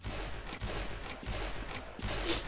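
Rapid gunfire in Garry's Mod roleplay, a dense run of shots packed together with short pauses between bursts, fairly loud and close throughout, no talking.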